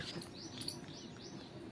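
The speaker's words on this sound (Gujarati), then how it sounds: "પક્ષી પણ ઉઠી ગયા છે" Birds chirping outdoors in the early morning, several faint, quick tweets scattered over a soft background, distant and brief, with no talking.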